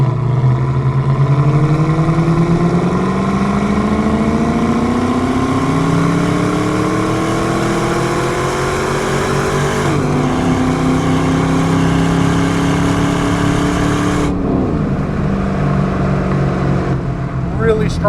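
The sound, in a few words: 2002 Pontiac Firehawk LS1 automatic engine accelerating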